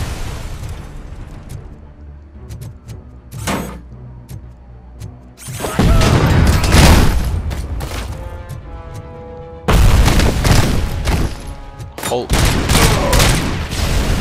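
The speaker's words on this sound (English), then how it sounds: "Though these guys like to throw fucking grenades." Grenade blasts and bursts of gunfire in RoboCop: Rogue City, loud booms landing around 5.5 and 9.5 seconds amid scattered shots, with game sounds rumbling underneath and a voice speaking at times.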